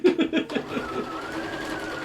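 A sewing machine stitches quilting lines into a large fabric panel with a steady, fast mechanical whir that runs on close after a brief spoken word.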